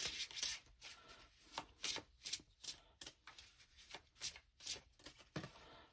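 Tarot cards shuffled by hand in a quiet room, a steady run of soft riffling, rubbing bursts repeating about twice a second, close and fairly faint with no talking.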